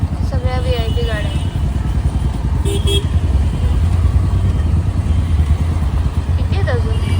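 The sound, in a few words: large VIP convoy cars passing on the road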